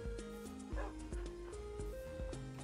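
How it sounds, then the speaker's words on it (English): Tamed dogs in the Minecraft video game, a quick series of close, yappy barks and short whimpers over a steady background of game music. "Yes, got a dog. Yes, got two dogs."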